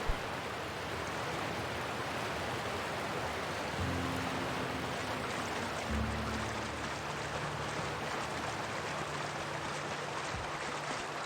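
A waterfall in a video game gives a steady, even rushing hiss throughout, moderately quiet, with faint low tones briefly appearing in the background.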